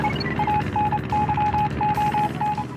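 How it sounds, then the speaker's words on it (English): From the island lighthouse in Wii Sports Resort, a series of short, high electronic beeps taps out Morse code in irregular groups of dots and dashes over a low ambient hum. "These sounds are actually Morse code."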